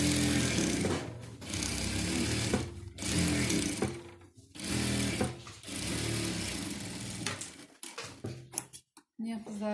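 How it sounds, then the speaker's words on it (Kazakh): Domestic sewing machine stitching along the edges of a patchwork quilt, loud bursts of rapid mechanical whirring broken by short pauses, with scattered clicks and handling noise toward the end. "Енді шет-шетінің бәрін бастырып шығамыз."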